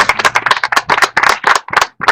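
A small group claps at a wedding gathering, quick uneven clapping from a few hands, close and lively, with brief pauses between bursts.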